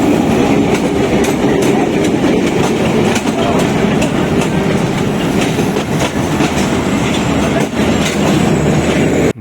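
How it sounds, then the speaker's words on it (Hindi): The 14 Down Awam Express, led by locomotive PH 28304, approaches Gujrat railway station in Pakistan. A loud, steady roar of rolling carriages carries rhythmic clickety-clack wheel beats throughout, close by. "14 डाउन अवाम एक्सप्रेस गुजरात रेलवे स्टेशन पे अप्रोच कर रही है, जिसे लोकोमोटिव PH 28304 लीड कर रहा है"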